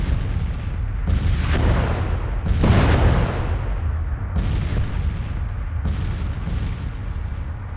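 Civil War artillery cannons fire in the strategy game Grand Tactician: Civil War, a series of deep booming shots about every one to two seconds with rumbling decay over a continuous low battlefield roar.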